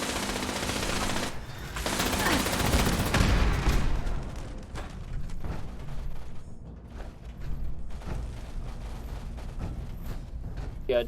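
Automatic gunfire in the game Fallout 76 rattles out in dense bursts, loudest early on and then thinning to scattered shots and mechanical clatter, with no talk over it.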